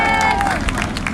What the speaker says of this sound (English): big round of applause for Yisrael